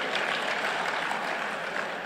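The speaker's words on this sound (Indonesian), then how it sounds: "Tepuk tangan untuk beliau." Steady applause from an audience at a university alumni association general meeting in Indonesia, greeting a deputy parliament speaker. Dense, continuous clapping runs throughout at a fairly loud level, with no voices on top.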